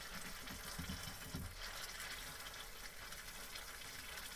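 Water rushes steadily from a cistern into a filter housing, a constant hissing gush at low level throughout, with some low gurgling near the start.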